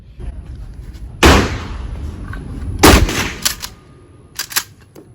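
Mossberg 500 shotgun firing buckshot outdoors, with three or four loud, sharp reports spaced a second or two apart, the first and second strongest, each trailing into a short echo over low background noise.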